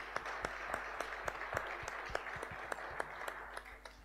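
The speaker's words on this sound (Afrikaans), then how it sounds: "Kom ons klap vir hom hande" Church congregation applauding a newly baptised member during a Sunday service, steady mid-distance clapping from many hands with sharp individual claps standing out, moderately loud throughout.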